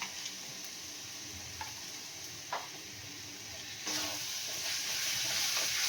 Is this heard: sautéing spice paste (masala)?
yes